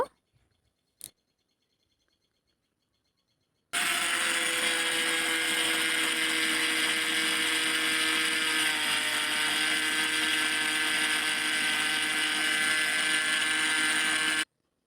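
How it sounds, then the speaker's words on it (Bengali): A kitchen blender grinds mustard seeds for homemade mustard oil, starting abruptly after a short quiet spell with a faint click. It runs as a loud, steady whirring roar for about ten seconds, then cuts off. "আবারও আমি সরিষাগুলো দিয়ে দিচ্ছি দিয়ে ব্লেন্ড করবো"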